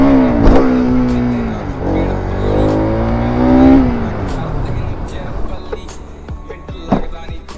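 A KTM RC200 motorcycle revving during a stunt ride, its engine climbing and falling in pitch through several loud rising and dropping sweeps nearby, with voices talking alongside.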